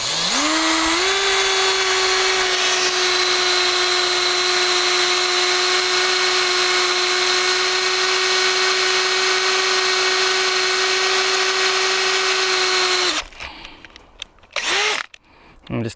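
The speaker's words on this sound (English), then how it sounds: "And then we'll start drilling" A power drill whines at a steady high pitch for several seconds while drilling a hole in woven aluminium fencing, then cuts off, followed by a couple of short bursts of spinning.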